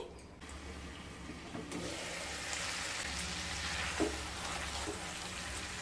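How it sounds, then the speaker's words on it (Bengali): Spices with turmeric being sautéed in a pan over medium-low heat for a Bengali fennel-fish dish make a steady, low sizzle, with a faint tap of a utensil partway through. "এবার মিডিয়াম টু লো স্টিমে মশলাগুলোকে খুব ভালো মতো কষিয়ে নেব।"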